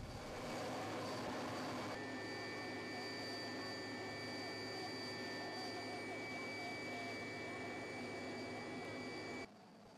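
Romanian military helicopter hovering during a NATO-allied rescue exercise as divers wait to be picked up, a steady loud turbine whine and rotor roar filling the whole clip without a break.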